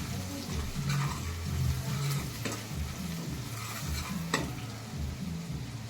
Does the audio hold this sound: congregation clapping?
no